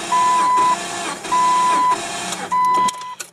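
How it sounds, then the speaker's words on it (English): An engine cranks over on the starter during a compression test, pedal to the floor, in three separate bursts of rhythmic whirring and chugging with short pauses between them, close and loud. "You want to put your foot all the way to the floor, crank it over a few times."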